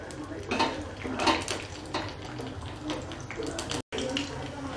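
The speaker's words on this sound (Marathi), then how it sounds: "त्यानंतर लाल मिरच्या घेतल्या, त्या पण आता आपल्याला तडक्यासाठी टाकलेल्या आहे मी तडक्यात." Red chillies tempering in hot oil in a pan for dal tadka, with a steady sizzle under repeated clanks and scrapes of a spoon against the pan, and a brief dropout near the end.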